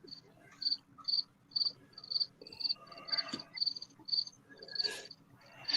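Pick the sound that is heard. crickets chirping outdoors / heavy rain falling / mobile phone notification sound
crickets chirping outdoors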